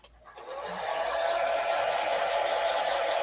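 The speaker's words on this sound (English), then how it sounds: "I'm going to use the blow dryer to dry this really quick" A blow dryer drying cardboard art starts after a short click and spools up into a loud, steady rushing whoosh with a faint tonal whine, running continuously and drowning out everything else.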